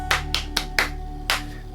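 Five sharp hand claps, each quick and dry, spaced fairly evenly with a slightly longer gap before the last, close and alone over a faint steady hum.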